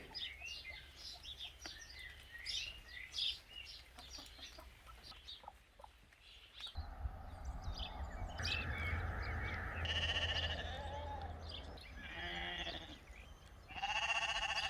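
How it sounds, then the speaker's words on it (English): Sheep bleat repeatedly at a distance, mixed with chickens clucking and birds calling, and the bleats grow louder and closer toward the end. "they're not my sheep, they belong to Karen"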